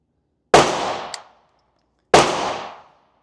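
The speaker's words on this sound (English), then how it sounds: "here are the first shots, and I'm at 15 yards." Two sharp, loud shots from a Daniel Defense MK18 rifle fired at 15 yards on a range, each a hard crack with a ringing tail, about a second and a half apart.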